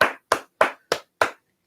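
Five sharp, evenly spaced hand claps ring out close and loud at a live podcast recording, each a crisp burst followed by a short silence, with no voices.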